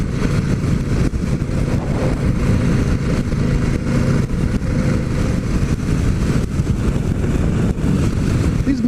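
A 2018 Harley-Davidson Sportster 1200 Iron on the move, a loud continuous low engine rumble blended with strong wind rush across the microphone, steady throughout with no pauses.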